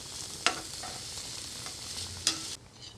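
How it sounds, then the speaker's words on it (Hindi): An onion mixture with curry leaves fries in a pan for a potato and eggplant curry and is stirred. A soft continuous sizzle runs throughout, broken by two sharp spoon clanks against the pan. "सब चीज़ों को अच्छे से भूनेंगे।"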